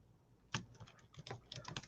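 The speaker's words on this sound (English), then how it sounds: "I'm typing that one too" Typing on a computer keyboard, a quick run of sharp clicking keystrokes in uneven bursts, close and fairly quiet, with no talking.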